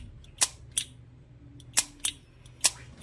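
A Japanese-made brass Zippo lighter with a dragon design gives five sharp, close metallic clicks at irregular intervals as its lid is flicked, each a crisp snap over a quiet background with no talking.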